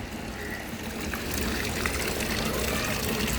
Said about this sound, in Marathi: आज पाणी आले आणि आता रोज पाणी येणार आहे